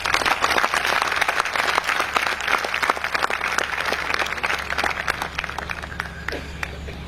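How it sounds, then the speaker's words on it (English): An audience applauds parents at a degree ceremony with a steady, dense burst of clapping that holds for several seconds, fairly close and loud, then thins slightly toward the end. "So give them a round of applause."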